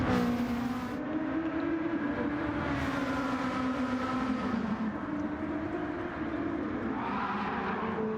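Lexus race cars pulling away at the start of a race at WeatherTech Raceway Laguna Seca, a loud sustained engine drone with rising and shifting pitch as the pack accelerates, steady and close throughout.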